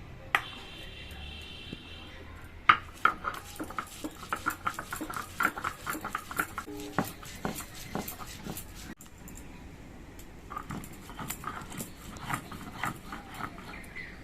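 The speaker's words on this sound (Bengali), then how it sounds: "আমি শিলে কচুগুলো বেটে নিচ্ছি" Taro being ground by hand on a stone grinding slab: a rhythmic run of scraping, knocking strokes, close and fairly loud, with a brief pause partway before the grinding picks up again.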